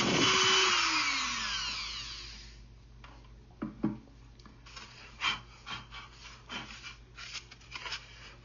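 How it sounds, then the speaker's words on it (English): A router bit cuts shallow brace pockets into a wooden guitar top, its high whine spinning down over a couple of seconds, followed by soft scraping and rubbing sounds. "I just mortise out those little areas where the braces go"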